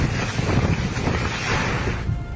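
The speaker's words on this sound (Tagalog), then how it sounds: "Malakas din ang bugso ng hangin sa bayan ng Dinapigil." Strong storm wind gusts roar across a town street, a dense, steady rush of noise battering the microphone throughout, loud and close with no voices.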